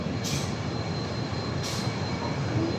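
The Kolkata–Agra Cantt superfast express arrives at Raebareli Junction with a loud, steady rumble of wheels on rail, faint squeals and two brief hissing bursts over it.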